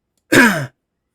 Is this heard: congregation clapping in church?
no